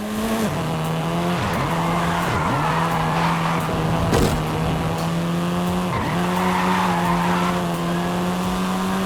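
A 7th-generation Volkswagen Golf R in the Forza Horizon 5 racing game drives hard, its loud, steady engine drone rising and dipping through gear changes as tires squeal and skid repeatedly through corners.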